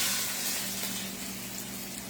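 Liquid flavoring poured over the top of a roast, a steady gushing, splashing stream close by that tapers slightly as it continues, with no talk.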